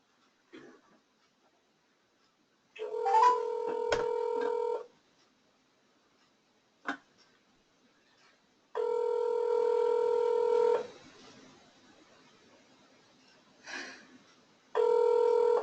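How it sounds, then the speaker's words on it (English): A telephone call is placed: a dialing tone sounds, then a ringback tone repeats in long, steady bursts separated by gaps, clear and fairly loud with a few faint clicks between rings. "I'm going to call you on the phone"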